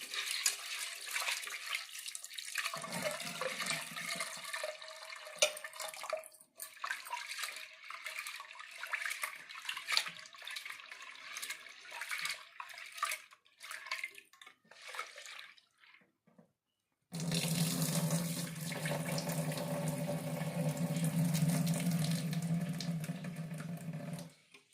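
Running tap water pours steadily over greens being washed for a long stretch, with splashing and shifting flow, then a louder, fuller gush of water toward the end.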